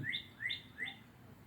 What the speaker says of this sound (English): Can y'all hear the birds?